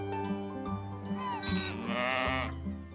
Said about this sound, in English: On these 2 islands, Jenny keeps her flock of sheep.